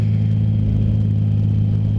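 A Triumph Rocket cruiser motorcycle rumbles while being ridden through a corner, a loud, steady, deep engine drone with throbbing low pulses and no talking.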